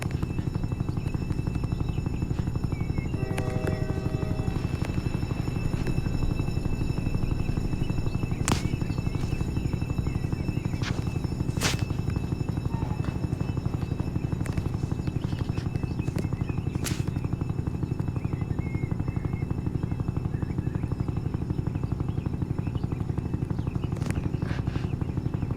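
An army Black Hawk helicopter flies with a continuous, loud rotor thrum and engine whine throughout, joined by a few sharp clicks or knocks.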